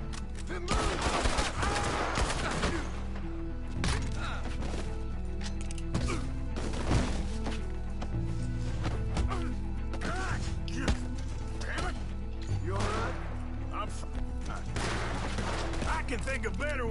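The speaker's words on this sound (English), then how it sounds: "I can hardly see what I'm shooting at." Dense, sustained gunfire from a Red Dead Redemption 2 shootout, with sharp repeated cracks and volleys layered over a loud, boomy low rumble, firing almost continuously and close by.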